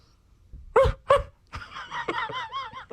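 A person imitates a puppy, with two short yips followed by a longer series of whiny, wavering whimpers, close and fairly loud.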